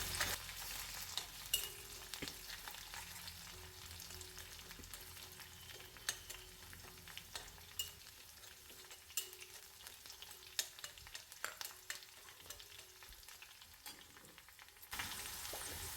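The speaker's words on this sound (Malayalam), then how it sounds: "ഇഞ്ചിയും പച്ചമുളകൊക്കെ ഒന്ന് മൂക്കട്ടെ കേട്ടോ" Ginger and green chillies fry in oil with a faint, steady sizzle, punctuated by scattered clicks and light stirring taps over a quiet background.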